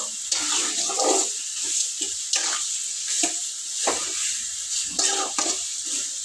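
Chicken being stirred in a hot pan for chicken potato kurma sizzles and hisses steadily, with repeated scraping strokes of the spoon every second or so, close up and without talk.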